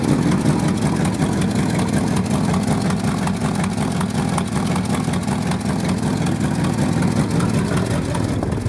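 Yard truck engine running at a steady idle after a cold start, a loud, continuous low rumble with an even mechanical patter and no voices over it.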